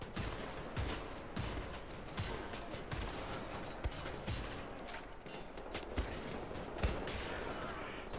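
Marksman rifle gunfire in the video game Wolfenstein: The New Order, with sharp individual shots cracking out every second or so over a dense, continuous din of combat noise.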